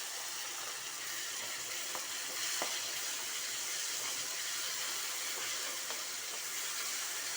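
Chopped tomatoes and curry leaves with salt frying in a pan, a steady bright sizzle and hiss throughout, close and even, with a few faint soft clicks and no speech.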